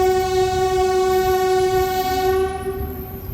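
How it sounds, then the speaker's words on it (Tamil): A train sounds a long, loud horn blast with steady harmonic tones as it runs through forest, the wheel and engine rumble continuing beneath as the horn cuts off near the end. "ட்ரெயின் அடிக்கடி போகிறதால அந்த சவுண்டு, இரைச்சல் இதெல்லாம் வனவிலங்குகளுக்கு கண்டிப்பாக ஒரு"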